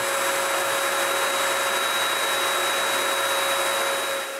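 A sprayer lays a finish coat on a bathroom cabinet with a steady, loud hiss of compressed air and a constant high whine that runs without a break.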